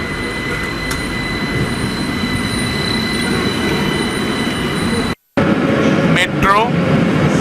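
A tram in Naples rumbles steadily past, then after a brief cut its wheels let out rising metallic squeals.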